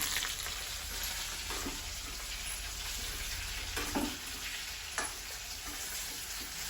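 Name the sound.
roasting cumin and coriander seeds while stirring in pan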